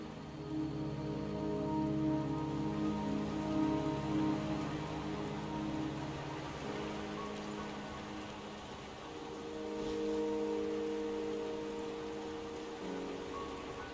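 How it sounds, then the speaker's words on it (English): Steady rainfall patters in a game cutscene set in mountains, a constant hiss with a low tonal music bed beneath it and no talk. "Don't worry, the rain won't last much longer."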